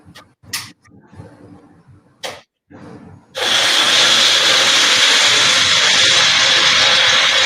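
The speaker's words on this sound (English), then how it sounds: "I'm putting it in my blender, and now I'm going to blend it up." An electric blender whirring through chilaquiles sauce ingredients, starting after a few short clicks and thumps and then running loud and continuous with a steady motor whine to the end.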